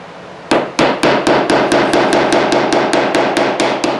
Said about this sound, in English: take a chisel and register right to my scribe mark and clean these up